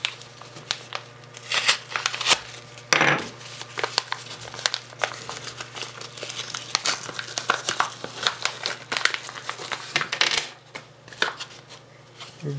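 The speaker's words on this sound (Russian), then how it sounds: "Давайте распакуем, посмотрим, что же здесь в этом мелком пакете." A small plastic package holding a citrus peeler is opened and unpacked close by: a long run of crinkling, rustling and tearing plastic with sharp snaps, in a quiet room.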